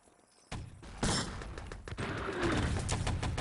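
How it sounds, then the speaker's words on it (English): Artillery fire rolls through a competitive match of the video game Enemy Territory: sudden heavy thuds, then a dense, continuous barrage of blasts and crackling impacts building to a loud, sustained rumble. "He's doing some really nice artillery work so far."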